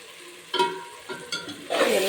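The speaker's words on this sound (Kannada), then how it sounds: "ಎಲ್ಲ ಮಸಾಲೆ ಫ್ರೈ ಆಗಿದೆ. ಆಯಿಲ್ ಹಾಕ್ಕೊಂಡು ಫ್ರೈ ಆಗಿದೆ." Masala frying in oil, heard as a soft sizzle broken by a few stirring scrapes and a louder burst of sizzling toward the end.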